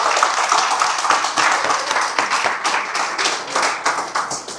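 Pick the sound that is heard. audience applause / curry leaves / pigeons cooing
audience applause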